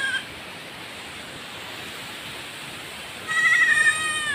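Goats bleat out in the open as a strong typhoon wind roars steadily; a single clear, wavering bleat comes near the end over the constant gusting.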